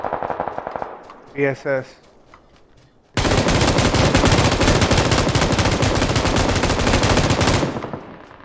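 Automatic gunfire in a shooter video game: a loud, dense burst of rapid shots rattling on for about four seconds, preceded by a short spoken remark.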